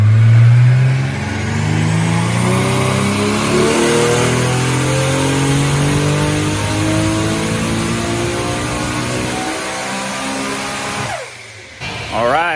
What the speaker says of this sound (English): we put it back on the dyno to turn the boost up a few more pounds for him